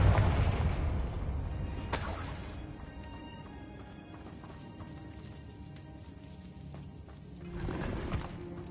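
A Confringo explosive spell in Hogwarts Legacy opens with a deep booming blast that rumbles and decays, followed by a sharp crack and then a second swelling burst later on, set amid a quieter game background.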